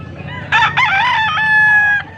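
A single loud, close rooster crow rings out clearly, drawn out for over a second against a quiet background.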